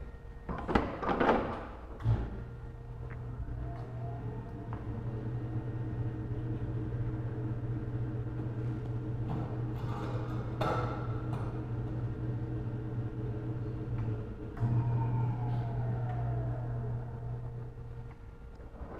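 Bosch WBE 4100 wheel balancer spinning a wheel, a steady mechanical hum and whir after a brief clatter of the hood closing, holding level for most of the stretch with a slight rise near the end.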